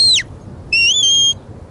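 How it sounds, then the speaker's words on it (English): A shepherd gives a herding dog the come-by command with a loud, shrill two-part whistle: a short falling note, a pause, then a longer sustained tone that wavers and ends abruptly. "So that's his come by whistle."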